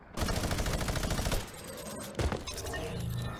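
In Fortnite, pistol and rapid gunfire rattles loudly in a fast string of shots for over a second, then scattered shots and impacts follow with no talk.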